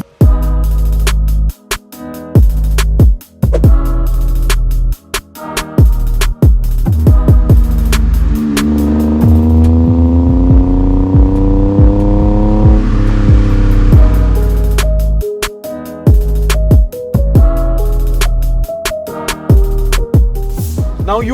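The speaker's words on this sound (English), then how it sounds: "So how about we switch the car on and take it for a quick spin." A modified 25-year-old Suzuki Alto, rated at 48 horsepower stock, is started and driven. The engine revs loudly and close, with repeated rising and falling pulls and gear changes, and a steadier rev in the middle.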